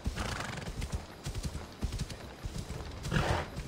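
Steady galloping hoofbeats of a horse ridden through a town's salt basins and narrow streets in the video game Assassin's Creed Odyssey, rapid rhythmic clip-clop close up with a brief whinny near the end.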